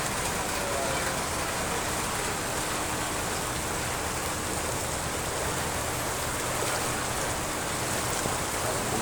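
Heavy typhoon rain pours down nonstop over a flooded village in a dense, constant roar, loud and unbroken throughout, with no clear voices.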